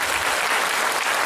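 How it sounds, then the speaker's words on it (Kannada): A crowd claps hard and steadily at a corporate presentation event for an Ayurvedic hair oil brand, the dense applause continuous and loud throughout with no speech on top. "ಇನ್ನೂ ಜೋರಾದ ಚಪ್ಪಾಳೆ"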